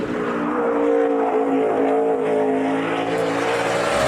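A NASCAR race car, driven by Juan Pablo Montoya on a 2012 qualifying lap at Watkins Glen, roars close and loud with a sustained, high-revving engine drone that barely wavers across the whole stretch.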